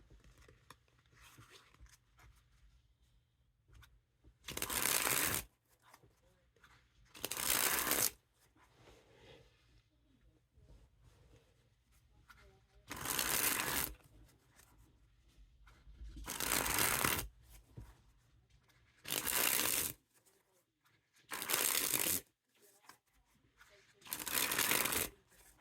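Teal Aristocrat Hollywood Casino playing cards being sprung from hand to hand, seven quick bursts of crisp fluttering riffles with short pauses between them, close up and loud over a quiet background.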